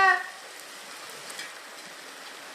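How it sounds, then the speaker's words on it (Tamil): Rain falling in a village, a steady dense hiss that continues evenly throughout, with a short tonal sound at the very start. "மழை வந்துருச்சு ஊருக்குள்ள."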